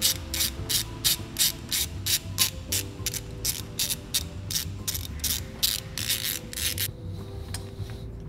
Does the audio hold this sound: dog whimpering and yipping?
no